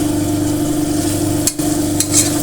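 Ingredients sauté in a pan with a steady sizzle and stirring scrapes, over a constant low mechanical hum, with a couple of brief clatters partway through.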